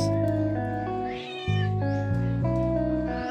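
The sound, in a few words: cat meowing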